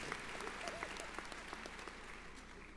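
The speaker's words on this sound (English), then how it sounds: "Give a round of applause," A graduation ceremony crowd at New Heights Charter School in Brockton claps steadily for the class of 2022, a dense, sustained round of applause heard from a distance and fairly faint.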